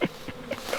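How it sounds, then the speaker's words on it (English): Honey bees buzzing around a swarm trap outdoors: a brief, close, droning insect hum with soft wingbeat fluctuations, no voices. "But there is bees in there."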